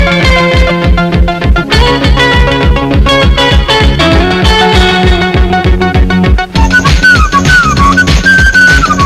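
Shrill whistling carries a wavering melody over a loud, rhythmic film-song backing from a Telugu movie, with steady percussion throughout and the whistle clearest in the final few seconds.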